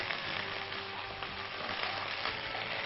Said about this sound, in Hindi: लहसुन पेस्ट शामिल करने के बाद अच्छे से आपने इसको मिक्स करना है